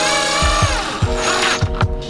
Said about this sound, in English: These are just gonna drill right into this plastic piece right here.